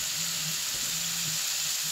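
Radish leaf sabzi cooks in a pan with a steady, even sizzle and hiss, while faint soft stirring movements sound underneath.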